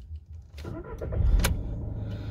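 A 2011 Seat Ibiza 1.6 TDI CR diesel engine cranks briefly and catches, then settles into a steady low idle, close by with no talking.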